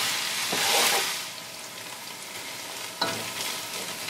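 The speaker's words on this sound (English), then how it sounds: "We are going to cook the onions until it becomes light golden brown." Onions fry steadily in a pan for a mutton stew, a soft continuous sizzle with brief louder stirring bursts near the start and again around three seconds, heard up close with no talking.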